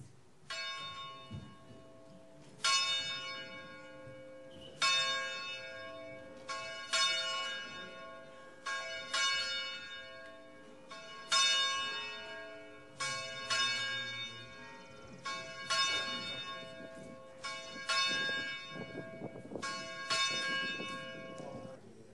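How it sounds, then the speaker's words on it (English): A church bell tolls about ten times in slow, steady strokes, each ring bright and sustained with a long decaying hum that overlaps the next, opening a Sunday worship service with no talk. "We begin our worship with the ringing of the church bell."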